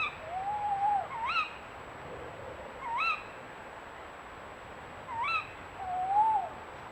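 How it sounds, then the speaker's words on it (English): Owls hoot and call at night, rising wavering cries repeated four or five times at a moderate distance, separated by quiet gaps, with no voices. "the calling cries of the owls pierce the stillness of the night"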